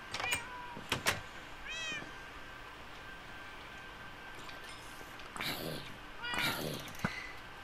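A cat in the Minecraft video game meows several times in short, separate calls spread across the stretch, with harmonic mews that rise and fall over a steady faint hum.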